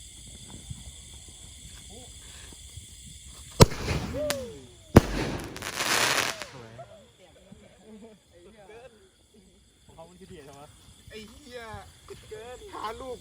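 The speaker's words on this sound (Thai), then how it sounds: "ตอนนี้เราจะจุดพุนะครับ" Fountain fireworks are lit at an end-of-Buddhist-Lent candle procession, with a sharp crack followed by loud, sputtering hissing bursts that gush for a couple of seconds, while people talk nearby before and after.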